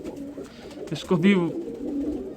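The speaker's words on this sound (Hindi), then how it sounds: "ये बड़े परफॉर्मर कबूतर रहे हैं मेरे पास" Performer pigeons coo softly nearby, low throaty burbles mixed in with someone talking close up.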